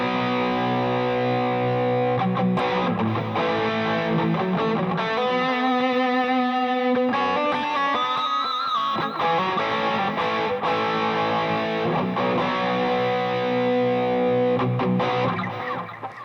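Electric guitar on a Valeton GP-50 with boost and overdrive stacked together plays a loud, saturated riff of sustained chords and quick single-note runs, continuous and heavily distorted.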